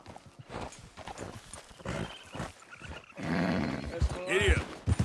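Horse hooves clop at a trot in Red Dead Redemption 2, with snorting breaths and a gruff rider's voice urging the horse on over the steady rhythm.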